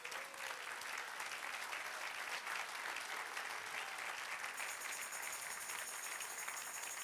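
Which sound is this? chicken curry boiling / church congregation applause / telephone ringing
church congregation applause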